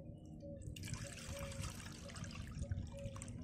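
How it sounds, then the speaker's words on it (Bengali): Mango juice pours through a sieve, making a continuous soft trickle and drip of liquid, faint and close, with no talking. "আমের শরবতটা ছেঁকে নিচ্ছি"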